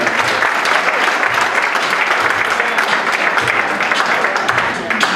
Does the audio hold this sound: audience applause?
yes